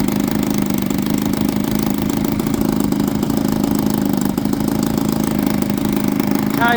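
The Lazer's engine on its first run, tied down: a loud, steady, close-up drone running without a break, with a busy mechanical texture and no speech.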